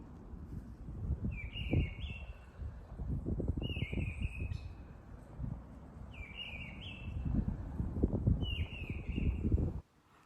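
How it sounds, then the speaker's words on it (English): A mistle thrush sings short, fluting phrases repeated several times at a distance, over rustling and footsteps close by. "That's the sound of a missel thrush."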